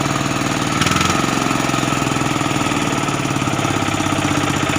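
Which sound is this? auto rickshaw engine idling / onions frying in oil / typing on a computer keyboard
auto rickshaw engine idling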